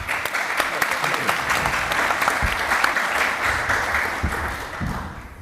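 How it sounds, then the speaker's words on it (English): Sustained audience applause after a panel discussion, dense steady clapping from a crowd that holds for several seconds before starting to thin out, with a faint voice in the background. "if we could have a round of applause"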